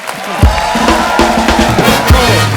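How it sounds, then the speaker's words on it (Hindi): A loud studio audience on a TV comedy show cheers and claps together, a burst of enthusiastic applause with shouts rising and falling over about two seconds. "एक बार हेजल और युवराज के लिए जोरदार तालियां"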